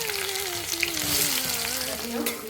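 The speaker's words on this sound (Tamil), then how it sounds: "நல்லா வதக்கிக்கலாம்." Chopped garlic and large onion sautéing in hot oil with fennel seeds for a potato masala, giving a steady, close sizzle with a faint tonal hum running through it.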